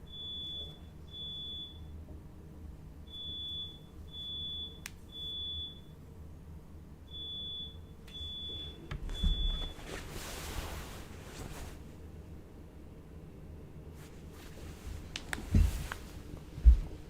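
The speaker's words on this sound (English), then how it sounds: "Sounds as though somebody's cooking may have triggered a fire alarm" A fire alarm in the video game Shadows over Loathing chirps in short high beeps, grouped in twos and threes with pauses between, for about ten seconds. A soft wind-like ambient wash follows after the beeping stops.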